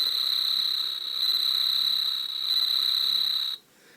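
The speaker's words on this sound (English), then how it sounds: "That doesn't sound like the crickets in my area, but maybe the Japanese crickets like to chirp different." Transpod Beet toy giving an electronic cricket chirp, a loud continuous high-pitched tone held steady for about three and a half seconds before it cuts off abruptly.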